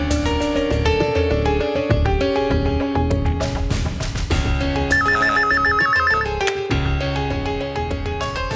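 A mobile phone ringtone plays loudly while a call is being placed, a repeating bright melodic tone pattern with a brief beeping passage midway, alone without voices.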